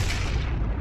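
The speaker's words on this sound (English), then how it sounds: "How did he get so lucky with these cannon shots?" One loud cannon blast in Sea of Thieves fills the moment, a broad booming roar with heavy low rumble, as in a game's artillery fire.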